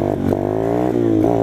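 A motorcycle engine revs loud and close during wheelie practice, its droning note climbing and dipping through a couple of throttle pulses.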